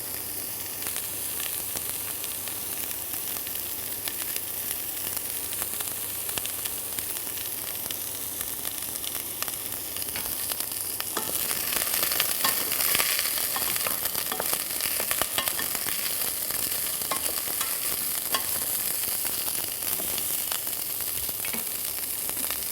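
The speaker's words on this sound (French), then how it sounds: "On doit entendre juste un petit grésillement." Cauliflower sizzles gently in a hot pan with a soft, continuous crackle and hiss, briefly louder partway through as it is stirred with a wooden spoon.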